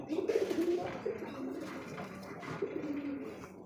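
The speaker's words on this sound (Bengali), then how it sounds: "কবুতর কিন্তু কম বেশি সবাই ডাকছে" Several pigeons coo in low, throaty, repeated phrases, close by and overlapping, with a faint hum of activity behind them in a pigeon loft or market.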